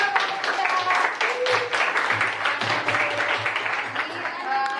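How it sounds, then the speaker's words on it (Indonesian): Clapping from students in a classroom, brisk and fairly close, lasting a few seconds with a rhythmic patter and a murmur of voices underneath. "Oke, tepuk tangan."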